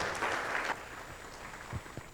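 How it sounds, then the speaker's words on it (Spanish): Faint, brief applause from an audience, a short patter of clapping that fades within a couple of seconds. "Un aplauso para nuestros panelistas"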